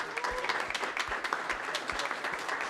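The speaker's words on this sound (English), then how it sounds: "So if you would join me in just giving them a round of applause." An audience at a community meeting claps for the organizers, a steady, fairly dense round of applause heard from within the room with no talk over it.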